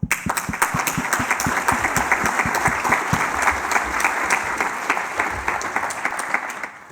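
A conference audience applauds to welcome keynote speaker Ian Livingstone, a loud, dense and steady clapping from a large crowd that holds for several seconds and then fades at the end.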